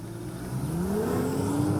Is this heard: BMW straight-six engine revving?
yes